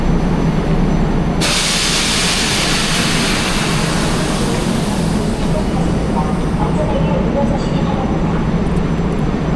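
A subway train rumbles into a station in South Korea with a steady low roar and a burst of hissing brakes, loud and close, with faint voices in the background.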